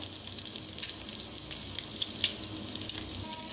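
A single egg fries in a pan, sprinkled with a little salt, giving a steady, soft crackling sizzle with small pops, fairly quiet and continuous with no talking.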